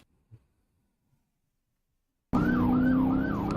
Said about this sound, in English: Lights and sirens immediately.